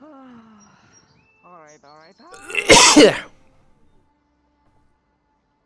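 A single sharp, loud sneeze bursts out near the mic, with quiet talk just before and after it.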